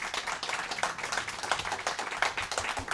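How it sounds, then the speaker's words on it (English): Audience applause for the panelists at the close of a panel event on AI and disinformation in European elections, a steady, dense round of clapping from a seated crowd, moderately loud and continuous. "Please give a round of applause to our panelists and to yourselves."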